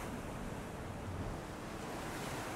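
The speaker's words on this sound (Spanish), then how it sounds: "Las olas vienen y van." Rough, heavy sea waves surge and wash back in a steady, unbroken roar of surf, with some wind noise mixed in, filling the whole stretch at an even level with no voices.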